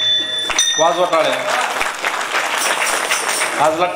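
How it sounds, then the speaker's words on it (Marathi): An audience claps along during a Marathi kirtan devotional gathering, with loud rhythmic hand claps over a mix of voices and singing. "वाजवा टाळ्या."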